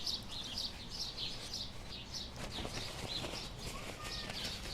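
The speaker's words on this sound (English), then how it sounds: "Little stream out in nature for you guys with all these bird sounds." Birds chirp loudly in quick repeated bursts outdoors at a farmers market, moderately distant, over a steady wash of background noise.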